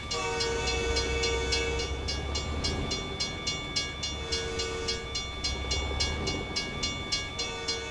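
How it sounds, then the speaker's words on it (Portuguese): A freight train in American Truck Simulator rolls past close by with rhythmic clickety-clack from the wheels, while long, repeated horn blasts sound over the steady rumble. "Onde vai passar o trem? Tô ouvindo faz tempo."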